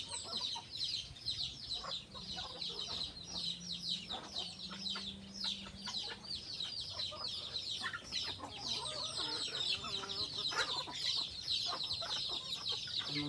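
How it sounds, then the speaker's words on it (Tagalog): Native chickens cluck and chatter continuously outdoors, a close flock with overlapping calls over steady farmyard ambience, no talking. "Ayan yung mga native chicken natin."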